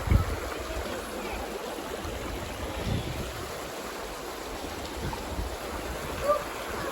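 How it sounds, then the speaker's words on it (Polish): Steady rushing water fills the air, a constant broadband roar of falling water close by, with a few faint bumps. "Słyszycie to? Wodospad. Gdzieś pobliżu."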